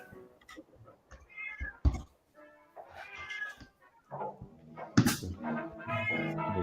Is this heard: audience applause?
no